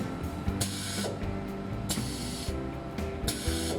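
A stator winding machine runs after its start button is pressed, giving a whirring mechanical hum with repeated sharp hissing spray-like bursts at roughly regular intervals, close and continuous without speech.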